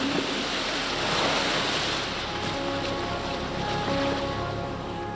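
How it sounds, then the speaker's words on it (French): Waves in the RNLI wave tank in Dorset, used to train sea rescue crews, a loud steady wash of churning water with a broad hiss and rumble that persists throughout without speech. "On commence avec de petites vagues de 30 cm de hauteur."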